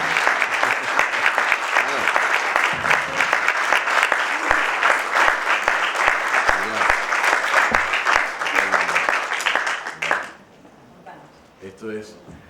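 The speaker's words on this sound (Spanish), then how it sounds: "Un aplauso para Marisol," Audience at an interview event at the Festival Borges giving sustained, loud applause for about ten seconds, then the clapping fades quickly into a few scattered claps and a brief voice.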